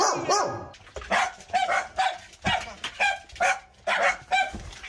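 A pack of dogs in a multi-household home bark repeatedly at arriving visitors, sharp close barks in rhythmic bursts with some yips, while people talk faintly in the background.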